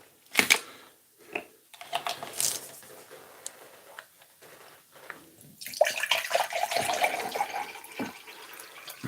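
Water is poured to top up a drink, a few seconds of close splashing and trickling after some soft clicks and handling noises in a quiet room.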